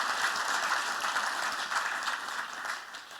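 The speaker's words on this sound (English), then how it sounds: "that does deserve a round of applause" Crowd applause at a Carnival town hall meeting in Freeport, Bahamas, a thick, continuous patter of many clapping hands in a hall, steady and fairly loud before tapering off at the end.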